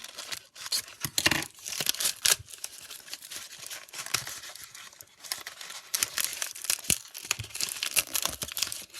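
A package is cut open with scissors while its plastic wrapper crinkles and tears, giving irregular bursts of crackling and rustling up close.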